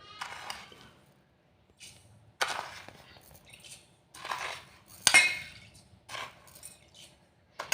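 Spoon stirring sugar into milk for rose milk, giving bursts of clinking and scraping against a vessel separated by short quiet gaps, close and moderately loud.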